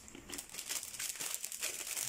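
Cardboard Amazon package being opened, a brief close burst of crinkling and tearing with no talking.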